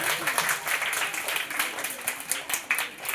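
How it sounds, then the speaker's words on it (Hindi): Classroom applause for a correct quiz answer about Constitution Day, a scattered patter of student clapping with uneven bursts rising and falling over a few seconds. "जोरदार तालियां।"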